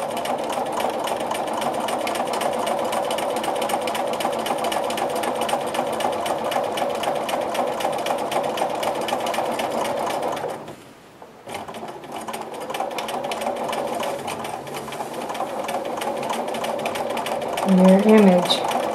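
Sewing machine stitching a grid-based quilting design runs steadily at close range, with a steady mechanical whir and rapid needle clatter. It stops briefly partway through and then resumes, and a voice talks over it at times.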